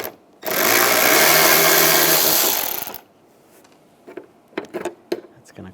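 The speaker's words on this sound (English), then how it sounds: "take these 2 screws out." A T20 socket spins out the two screws holding a headlight bracket on a 2006–2009 Mercedes-Benz E350 light assembly, a steady whirring power-driver run of about two and a half seconds followed by light clicks and handling noises.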